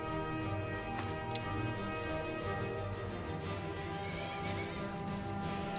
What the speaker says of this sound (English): There's my horse attacking a saber cat.